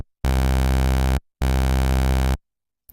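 Two sustained, buzzy low synth notes, each about a second long, with a brief silence between them; a rich, bright sawtooth oscillator tuned two octaves down for a bass patch.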